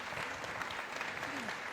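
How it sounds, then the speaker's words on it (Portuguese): An audience at a Rio de Janeiro city council event held in a favela claps steadily at a moderate, somewhat distant level, with a few voices mixed into the clapping. "Eu peço uma salva de palmas de todos vocês."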